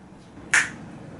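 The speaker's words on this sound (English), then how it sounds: "I'm gonna have to do a clap sync," Single sharp hand clap made to sync audio before a bass ukulele unboxing, one loud close crack alone over a quiet room.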